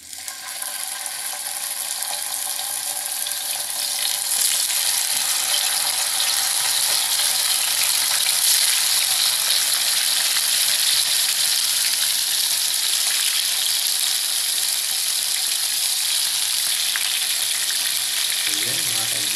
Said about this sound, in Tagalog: mainit na yung ating mantika. Mainit na rin yung ating kawali.